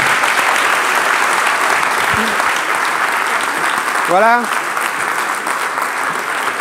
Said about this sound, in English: I think a big round of applause.